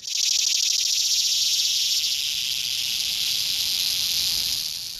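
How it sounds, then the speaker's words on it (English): A dense, steady shrill drone of Brood II periodical cicadas calling to mates on the US East Coast fills the air at full strength, a continuous buzzing chorus with no voices. "cicadas only live for 2 to 3 weeks above ground, which is just long enough to locate a mate with their highly specialized and widely studied mating calls"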